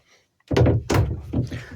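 An interior door in a motorhome swung shut, giving a close, solid thunk after a moment of quiet, then two more knocking bumps as it settles, with no talking.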